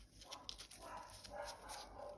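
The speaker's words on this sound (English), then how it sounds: "Every time I turn the camera on, she has to bark" A female pet dog barks a few times, faint and somewhat distant, indoors while clay crafting is under way, with soft scattered yips over a steady background hiss.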